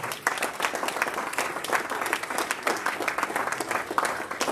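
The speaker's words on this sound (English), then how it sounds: "Let's give those people a round of applause." A room of people applauds standing board and leadership team members at a Rotary club meeting, a moderately loud, uneven patter of many hands clapping throughout.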